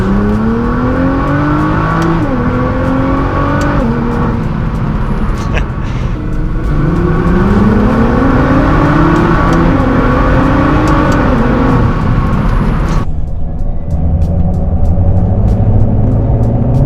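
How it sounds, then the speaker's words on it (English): Stock-tune Nissan GT-R pulling hard in second gear from inside the cabin, a loud continuous engine roar climbing steadily in pitch with brief dips at shifts before easing off, while people talk over it. "We'll do the same second gear acceleration."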